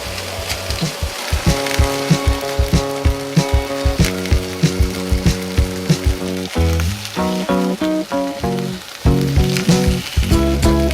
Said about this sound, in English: Potatoes are getting nice and crispy.